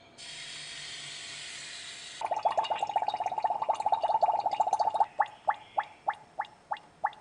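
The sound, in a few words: CO2 gas bubbling after adding hydrochloric acid to flask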